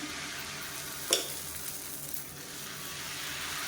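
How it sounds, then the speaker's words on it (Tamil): Thin dosa batter poured onto a hot pan hisses in a steady, close sizzle, with one brief clink near the start and the frying noise holding evenly throughout. "தோசையாக ஊற்றிக்கலாம்"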